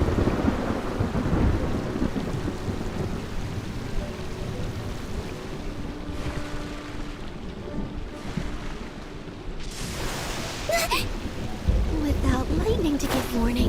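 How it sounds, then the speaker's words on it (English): Thunder rumbles across a stormy Genshin Impact game world in the Inazuma region, a deep rolling boom over steady rain, with a sharper crack and bright burst of rain noise later on. "Without lightning to give warning, the sound of thunder is quite startling."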